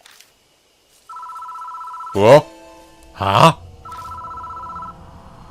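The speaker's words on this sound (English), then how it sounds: "The phone starts ringing out of nowhere." A telephone rings in the horror video game Death Mark, a steady electronic ring in repeated bursts with pauses, interrupted twice by short startled vocal exclamations.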